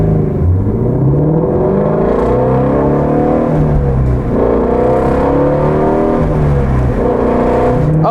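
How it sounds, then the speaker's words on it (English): A Shelby GT350R Mustang's engine is revved during rev matching, loud and close, its pitch repeatedly sweeping up and dropping back in quick blips. "Let's do some rev matching"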